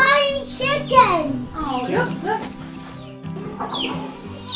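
Chickens cluck and squawk at a petting farm in Dublin, New Hampshire, heard close by and mixed with children and adults talking throughout.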